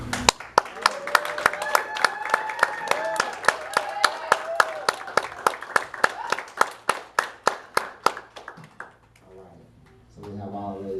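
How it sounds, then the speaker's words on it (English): Steady applause and clapping for pageant contestants gathered on stage, a dense crowd sound with sharp rhythmic claps carrying on, then thinning and fading near the end, with voices and music under it. "Give them one more round of applause, everybody."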